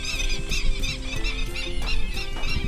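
Many birds calling and squawking together in a busy, continuous chorus on open land in Nong Suea, Pathum Thani, Thailand, fairly close, with repeated shrill cries over a low background rumble.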